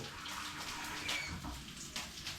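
Water splashes and pours steadily into a pot for soup at low volume, a continuous gushing with small bubbling accents, no voices.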